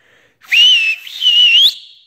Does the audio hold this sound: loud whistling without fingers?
yes